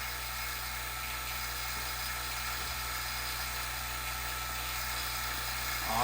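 A vacuum pump hooked to the A/C system of a 1992 Ford Ranger runs continuously with a steady, high-pitched mechanical whine and low hum, unbroken and fairly close, with no talking.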